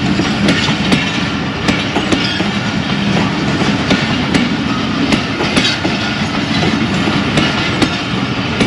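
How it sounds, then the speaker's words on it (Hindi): Hazara Express 12 Down passenger train, with one AC standard coach and economy coaches, passing close by on a cold winter morning, a loud steady rumble with rhythmic clickety-clack of wheels over rail joints. "ये हज़ारा एक्सप्रेस है 12 डाउन, एक एसी स्टैंडर्ड और बाकी इकॉनमी क्लास"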